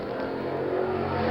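Racing engines of 1971 Can-Am sports cars at Mid-Ohio Sports Car Course in Lexington, Ohio, a steady loud roar of several cars on track, continuous through the short moment with no voices.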